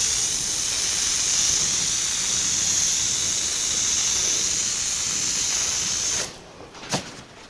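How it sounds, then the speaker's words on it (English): Spray primer hisses steadily from a can onto a 1982 Jeep CJ7, a continuous close aerosol spray that stops near the end, followed by a brief handling knock. "we'll begin with the first of 3 coats of primer"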